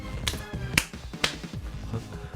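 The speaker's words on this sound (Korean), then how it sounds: "손뼉으로 클랩을 치며" Sharp hand claps from the mobile game Sophomoric Illness Raise (중2병키우기), three crisp snaps spaced about half a second apart over background music, with a voice speaking alongside.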